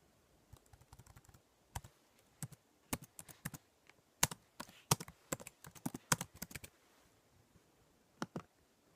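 Fingers type on a computer keyboard with one stiff key, producing irregular bursts of sharp clicks, some louder strikes, close and fairly quiet with pauses between runs.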